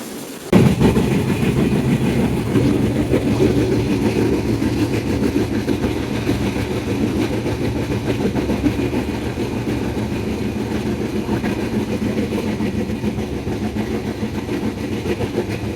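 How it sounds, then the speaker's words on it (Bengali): The Chitra Express, a broad-gauge passenger train on the Dhaka–Khulna route, rolls along its rails. After a brief quieter moment the loud rumble rises and holds steady, with faint rhythmic clatter and no talking. "চিত্রা এক্সপ্রেস, যার ট্রেন নাম্বার 764, ঢাকা থেকে খুলনা রুটে চলাচলকৃত এটি একটি ব্রডগেজ ট্রেন।"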